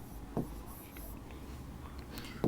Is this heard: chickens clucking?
no